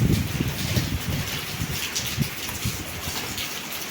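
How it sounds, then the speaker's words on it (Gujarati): Strong wind and heavy rain outdoors, a dense, steady rushing wash of falling water with gusty low rumble, loud and continuous with no voices. "જો બહુ જ પવન અને વરસાદ ચાલુ છે."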